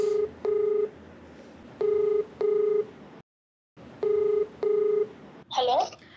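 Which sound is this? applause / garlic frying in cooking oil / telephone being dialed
telephone being dialed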